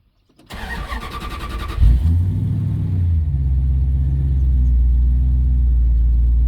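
A 1956 Dodge car engine cranks and starts, revs briefly, then settles into a steady low idle as it warms up, rumbling on, close and loud.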